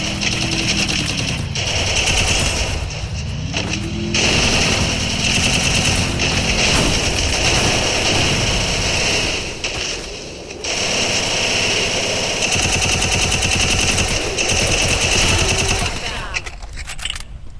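Rapid automatic gunfire from a shooter video game, loud, close bursts of machine-gun fire rattling almost continuously with brief pauses, a voice talking over parts of it.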